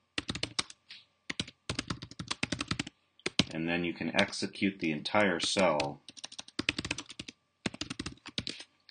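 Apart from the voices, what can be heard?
typing on a computer keyboard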